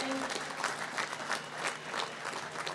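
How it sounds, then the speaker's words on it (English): Applause from an audience at a National Day Parade awards ceremony for awardees, steady clapping from a sizeable crowd filling the whole stretch at moderate volume. "Let's give a round of applause to all of our awardees this morning."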